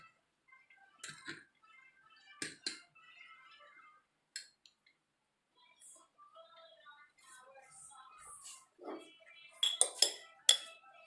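A spoon stirs a homemade cappuccino coffee mixture in a cup, making scattered light clinks and taps against the cup in an otherwise quiet room, with a few louder clinks near the end.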